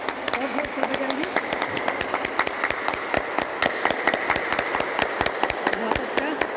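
Loud group hand clapping in a yoga class: sharp, rapid, rhythmic claps repeating steadily from start to end, close and punchy, while an instructor's voice talks intermittently beneath them.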